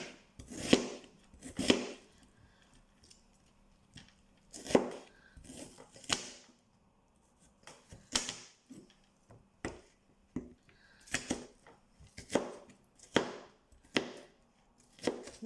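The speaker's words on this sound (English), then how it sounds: "So I'm just going to roughly chop these." Knife roughly chopping ingredients for Qatari machboos on a board, a series of crisp, fairly close thuds in uneven clusters with short pauses between them.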